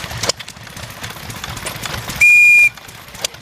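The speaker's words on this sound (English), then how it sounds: "Go ahead and pull that whistle." A single shrill whistle blast of about half a second sounds over a low engine rumble and faint clatter at an old-time power and equipment show.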